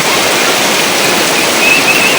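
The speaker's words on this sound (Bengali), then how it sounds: "আর দেখেন কি জোরে বৃষ্টি পড়তেছে" Sudden heavy rain pours down outdoors while someone cooks under a makeshift paper cover, a loud, dense, unbroken hiss with no voices.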